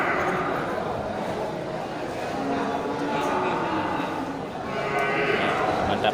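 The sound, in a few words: Simmental Black cattle at a livestock market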